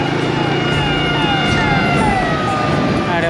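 A siren wails along a highway over loud, steady road and engine noise from a motorbike ride, its rising and falling tones clearly cutting through the rumble.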